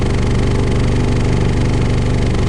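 A cold-started diesel engine idling steadily up close, a loud continuous low rumble with a fine mechanical clatter and no voices.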